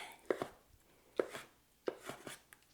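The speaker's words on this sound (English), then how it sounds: "So I'm just doing a rough chop on these tomatoes" A knife roughly chops tomatoes on a cutting board, making three crisp, close thuds spaced about a second apart, each with a short scraping tail. The kitchen is otherwise quiet.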